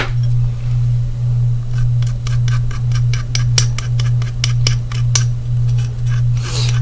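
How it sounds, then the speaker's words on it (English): Dragon's blood stirred into oil with a spoon makes a rapid run of light metallic clinks against a glass container, close and crisp over a steady low electrical hum, with no talking. "You're going to want to take the dragon's blood, put it in your oil, stir it up."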